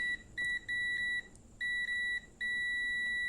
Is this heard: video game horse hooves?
no